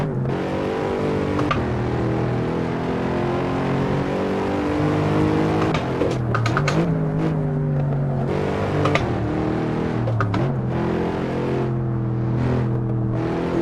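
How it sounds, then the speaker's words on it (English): Car engine in the Assetto Corsa racing game, a Mercedes, droning steadily with rising and falling revs and gear changes, loud and continuous without pause. "Doesn't this car sound a little, like, generic or something?"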